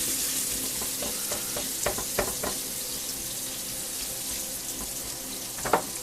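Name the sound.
beef browning in olive oil and butter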